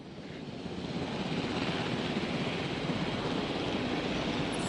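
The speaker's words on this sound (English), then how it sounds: "Please report for dig site selection as the helicopter is standing by." A helicopter engine idles on standby in a Jurassic Park video game, a steady, dense rotor-and-turbine roar that swells slightly in the first second and then holds at an even level with no talk.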